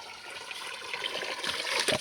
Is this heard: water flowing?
yes